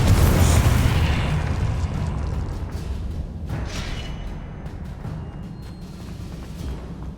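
A Confringo spell blast in Hogwarts Legacy: a loud, close booming explosion at the start that rumbles and slowly decays, with a second softer burst midway.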